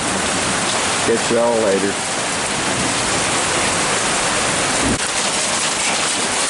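Hail comes down hard during an Eastern Kentucky hailstorm, a loud, dense, continuous roar of impacts close by, while a person briefly talks over it early on.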